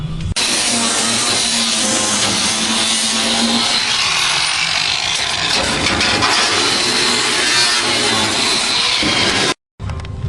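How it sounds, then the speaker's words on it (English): An angle grinder fitted with a flap wheel cleaning up cut metal on a truck bedside, a loud, steady, close grinding whine that holds for nearly ten seconds and then stops abruptly, with no talk. "Take a flap wheel on my grinder and I'm going to clean all this cut area up."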